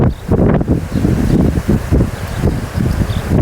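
Strong wind sweeps across an open field of sprouted pearl millet, kicking up dust and buffeting the microphone with loud, continuous low rumbling gusts.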